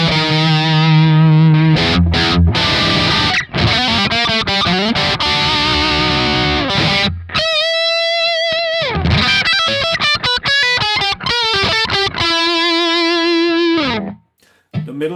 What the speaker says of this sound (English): It's the shawbucker and sounds like this.